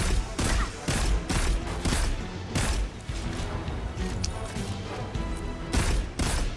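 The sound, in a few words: gunfire in a firefight in the Destiny 2 video game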